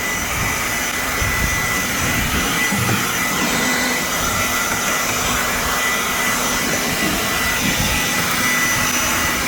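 An Aoetree 20V cordless jobsite blower whirs continuously at close range, blowing pine needles, a loud, steady high-pitched airy roar with no pauses or talking.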